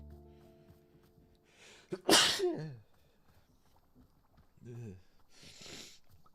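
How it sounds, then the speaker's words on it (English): A sharp, loud sneeze bursts out after a quick intake of breath, followed by a sniff and a softer breathy exhale. "I'm gonna sneeze in a second."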